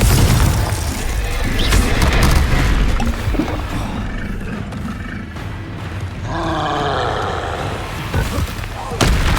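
Fire-spell explosions from the Hogwarts Legacy video game boom and roar in heavy, overlapping blasts through a dense, loud mix of combat effects and grunts, filling nearly the whole stretch.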